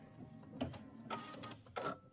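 A sewing machine tacks and stitches a Christmas quilt wall hanging, running in short mechanical bursts separated by brief pauses, fairly quiet and close.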